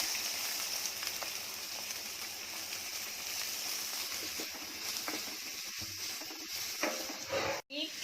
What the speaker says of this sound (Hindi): तेल अपना गरम हुआ, इसमें 2 बड़े बड़े प्याज डाल रही हूँ।